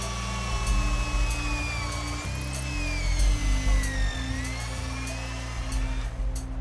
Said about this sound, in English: 20 feet up to where he'll drill in an anchor.